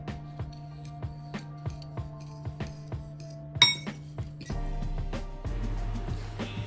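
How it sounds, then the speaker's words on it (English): A spoon clinks repeatedly against a bowl while granulated sugar and cinnamon are mixed, giving a rapid series of light taps, followed by a louder clatter and a low hum. "Now with my granulated sugar, I'm going to mix in 2 teaspoons of cinnamon."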